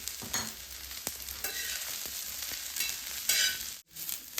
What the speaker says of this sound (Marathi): कांदा आपल्याला लाल सोनेरी कलर येईपर्यंत भाजून घ्यायचा। आपण कांद्यामध्येच आलं आणि लसूण टाकणार आहे भाजण्यासाठी।